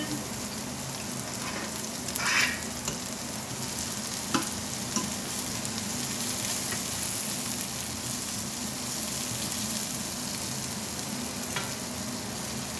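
Rice frying and browning in meat juices in a pan for a chicken and merguez one-pot dish, a steady close sizzle with brief stirring scrapes and no talk.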